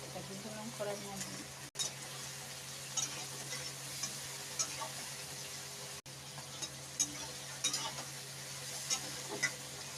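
Neem leaves sizzle in hot oil in a pan, a faint steady frying hiss under a low hum with occasional soft scrapes of stirring, and a person talking over it.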